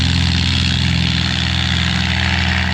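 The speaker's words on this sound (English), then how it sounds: "Full throttle for takeoff again, 2800 RPM, off the ground very quickly." A CT-4A aircraft's piston engine roars at full throttle for takeoff at 2800 RPM, a loud, close, steady propeller drone with a pulsing low throb.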